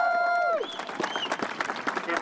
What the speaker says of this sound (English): Same-sex marriage supporters cheer on the Liberal rebels.